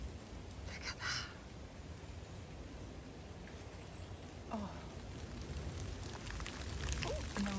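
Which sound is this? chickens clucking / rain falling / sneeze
rain falling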